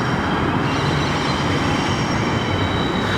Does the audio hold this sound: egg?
no